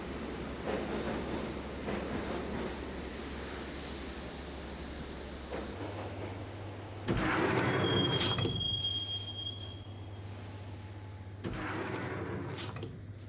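Subway train rolling on rails in the Max Payne game, a steady low rumble with a shift in tone, then loud screeching wheel squeals and metallic grinding in bursts.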